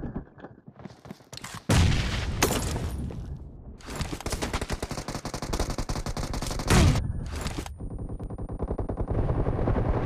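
Rapid bursts of gunfire in a PUBG Mobile team deathmatch crackle loudly and densely, with sustained automatic fire and overlapping shots filling most of the stretch after a brief quieter start.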